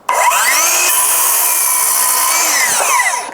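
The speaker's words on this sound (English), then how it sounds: "this is how you cut with a circular saw" A circular saw bites into a 2x2 wood board with a loud, close, continuous whining cut lasting about three seconds, its pitch dipping as the blade loads and rising again as it finishes.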